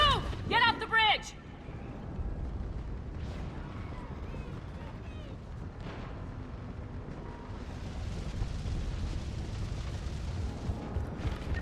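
Fire-support explosions go off in the Mass Effect video game: a few heavy booms at the start, then a long, deep rumbling roar of distant artillery that continues under shouting voices.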